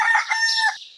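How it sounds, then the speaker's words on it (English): A rooster crows once, close and loud, in a single rising and falling call lasting about a second. "Rooster."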